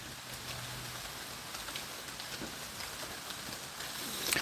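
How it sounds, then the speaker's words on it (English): A gentle drizzle falls during an outdoor walk among fallen leaves, giving a soft, steady, even hiss of rain with no talking. "Yeah, it's just a drizzle, gentle rain."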